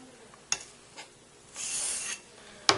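Knife blade drawn over a low-grit whetstone, heard as a few faint scraping strokes with one longer rasping pass and some sharp taps, close and without voices.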